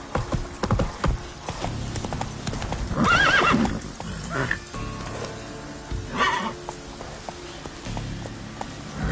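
Roach, the horse from the video game The Witcher 3, gallops with rapid clip-clopping hooves and a loud whinny partway through, close and continuous over background game sounds.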